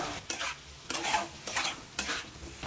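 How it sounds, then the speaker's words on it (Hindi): Potatoes coated in spicy masala are stirred in a pan, with rhythmic scraping strokes roughly every half second over a soft sizzle, close and fairly quiet. "अच्छे से आलूओं को एक बार हम मिक्स कर देंगे"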